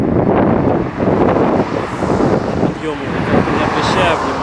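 Strong stormy wind buffets the microphone in a constant loud roar while a cyclist rides uphill in the Urals, with someone speaking over the gusts.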